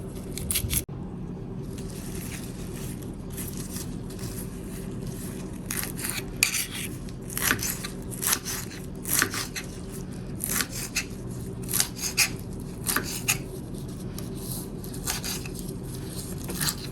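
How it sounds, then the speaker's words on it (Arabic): Fresh mint leaves are coarsely chopped with a knife on a board, giving a steady run of close, crisp tapping cuts over a low background hum. "بس النعنع حأفرمه تقطيع خشن، حيكون أخشن من البقدونس"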